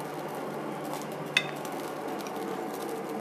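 Butter sizzles steadily in a frying pan on a stovetop while schnitzel is being prepared, a constant close hiss with one brief clink of a utensil partway through.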